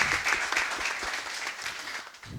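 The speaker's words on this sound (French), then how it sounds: "Merci de faire un tonnerre d'applaudissements" An audience gives a brief burst of applause to welcome a guest onto a Congolese talk-show set. The clapping is dense and close, and it fades toward the end.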